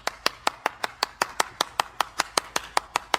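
A burst of steady, rhythmic clapping, fairly close, with evenly spaced sharp claps and no voices.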